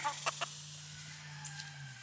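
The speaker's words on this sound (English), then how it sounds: "So we've got 1 rooster, 2 roosters, 3 roosters, 4 roosters, 5 roosters." Several roosters in a backyard flock in hot weather, with a few short clucks and crowing bursts near the start and fainter calls later over a steady low hum, quiet and somewhat distant.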